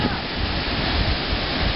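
Sea surf in a fish's natural habitat, a broad, constant rushing wash of waves, loud and close, with no individual breaks standing out.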